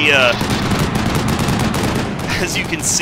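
Gunfire in the video game Black Sea alpha, a loud continuous rattling barrage of rapid shots filling the whole moment, close and dense with a few high whines near the start and end.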